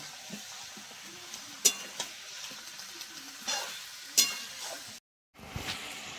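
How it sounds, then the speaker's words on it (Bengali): Chicken fries with green chillies and unripe green tomatoes in a pan, a steady sizzle broken by sharp stirring scrapes and clinks from a spatula, with a brief gap of silence near the end. "আর এই যে কাঁচা টমেটো একসঙ্গে দিয়ে চিকেনটা ভালো করে ভেজে নেব।"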